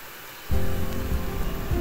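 Rain begins suddenly and falls steadily onto a surface nearby, a dense even patter that stays loud throughout.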